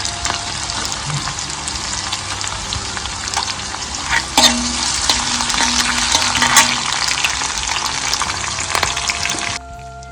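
Peanuts fry in a pan of oil while making sago upma, a steady loud sizzle running throughout with a few stirring clatters, then cutting off just before the end.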